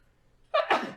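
A single sharp human sneeze close to the microphone, a quick two-part burst after a moment of near silence.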